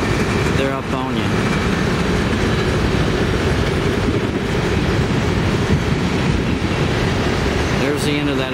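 A long CSX freight train rumbles past close by with steady rail noise and clatter, loud and continuous throughout.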